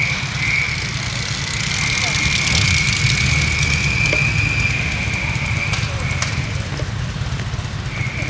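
Motorcycles, including Harley-Davidsons, Kawasaki Ninjas and trikes, roll in to a Bolsonaro motorcade rally in São Paulo, making a continuous engine rumble amid outdoor crowd noise, with a sustained high whine running through most of it.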